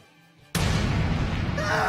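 An explosion sound effect bursts in abruptly after a quiet moment, a loud broadband blast that rumbles on and sustains to the end.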